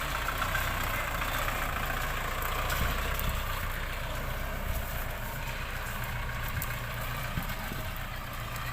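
Kubota L5018 tractor engine idling at low revs while the tractor turns around in a cassava field, a steady near drone with no talk.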